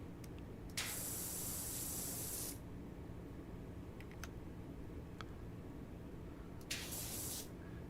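Pressure washer spray in the video game Power Wash Simulator, with a Turbo nozzle upgrade: a loud, steady hiss burst of about two seconds, quiet clicks, then a second spray burst starting near the end.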